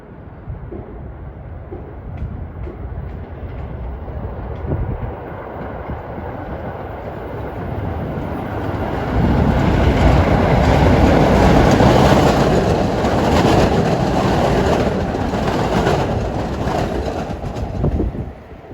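A Staten Island Railway R44 express train approaches a station during the afternoon rush, its rumble and clattering wheels building from moderate to loud as it draws near, then staying close and heavy.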